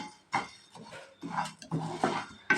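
Moong dal dry roasting in a pan on a low flame, with uneven bursts of clattering and scraping as the lentils are stirred, close by, with pauses between strokes.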